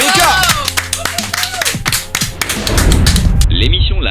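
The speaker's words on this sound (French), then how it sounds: "Je voudrais s'il vous plaît qu'on applaudisse bien fort." Audience clapping at a live slam poetry show, loud close claps and thuds mixed with voices, swelling into a broader burst of applause near the end.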